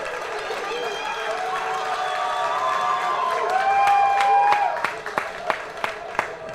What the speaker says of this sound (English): The crowd certainly like it.